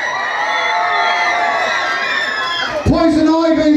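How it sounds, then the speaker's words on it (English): A crowd of spectators, many of them children, cheers and shouts for contestants, a loud and sustained wall of high-pitched voices. An announcer's amplified voice then cuts in over the crowd. "give them a cheer."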